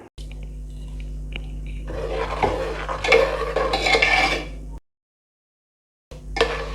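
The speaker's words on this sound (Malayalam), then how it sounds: "ഇത് തേങ്ങ അരച്ച പാത്രം ഒന്നുകൂടി കഴുകിയിട്ട് കുറച്ച് വെള്ളം കൂടി ചേർത്ത് കൊടുക്കാം" A vessel used for grinding coconut is rinsed and water is added while cooking Kerala sadya-style parippu: close clattering and scraping of a metal pot with sloshing, a brief silent gap, then more clinking.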